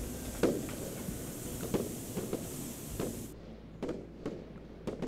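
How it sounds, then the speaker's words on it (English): Fireworks go off in sequence in the Roblox game Lumber Tycoon 2, a string of faint, muffled pops and thuds spaced about a second apart over a low, steady hiss. "the leg stops the fireworks from going off"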